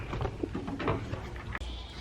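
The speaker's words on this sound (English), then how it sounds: "I'm gonna go put some goats up." Goats on a farm bleating close by, several short overlapping cries in quick succession over a rough outdoor background.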